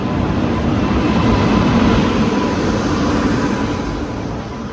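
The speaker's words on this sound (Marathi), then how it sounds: "ट्रेन आली आहे." A delayed passenger train pulls into a station on a hot day, giving a loud, steady rolling rumble that holds through the whole stretch with no voices over it.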